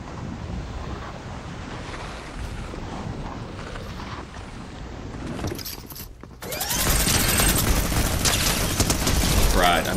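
Gunfire in the Fortnite Chapter 2 Remix battle royale, a dense rattle of shots over ambient wind and water noise that grows louder and fuller midway through.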